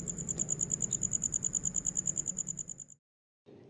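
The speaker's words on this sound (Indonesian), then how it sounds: "Dan di sore harinya selalu ditemani nyanyian jangkrik." Rapid, evenly pulsed chirping trills on and on, a close insect chorus that cuts off abruptly near the end.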